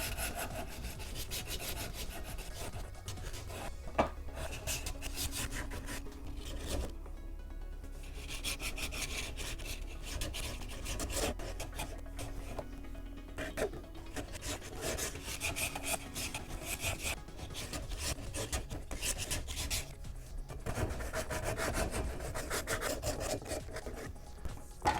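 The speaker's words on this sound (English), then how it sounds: "A little bit of sanding to take out all those ridges." Continuous rasping strokes of sandpaper against wood, smoothing out ridges, rhythmic and close, with brief pauses between passes and no talking.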